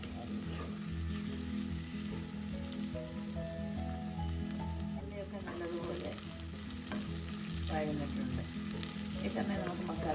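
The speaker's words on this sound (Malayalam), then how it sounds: "കുറച്ച് സമയം കൂടെ വഴണം നല്ലതുപോലെ ബ്രൗൺ കളറാണ് ഗോൾഡൻ കളർ" Small onions sauté in a hot pan for a Kerala-style onion masala, giving a steady, close frying sizzle with occasional stirring scrapes throughout.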